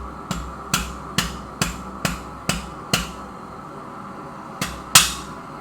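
Hot steel is hammered on the horn of an anvil while forging a letter opener: about seven sharp, ringing blows in a steady rhythm, a short pause, then two more, the last the loudest.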